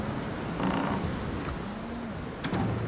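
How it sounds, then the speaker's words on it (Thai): A creaking door swinging shut in a rainy horror video game, a drawn-out groaning creak over a steady background hiss, with a few brief scraping accents. "เป็นคนมีมารยาทปิดประตูให้ด้วย"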